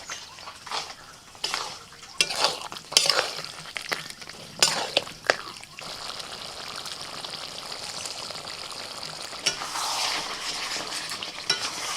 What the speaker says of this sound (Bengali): এবার পাঁঠার মাংস দিয়ে দিচ্ছি।